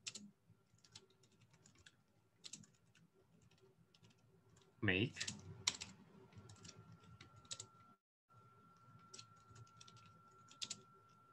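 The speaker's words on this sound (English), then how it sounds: "the first line of code, I type this" Faint, scattered clicks of computer keyboard keys as code is typed, with irregular bursts of keystrokes and one louder clatter partway through, under a quiet room background.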